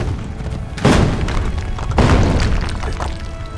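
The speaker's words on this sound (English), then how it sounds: "Explosions!" Two heavy booming video game explosions from Assassin's Creed Brotherhood, about a second apart, each with a crackling, debris-like tail over a constant rumbling background.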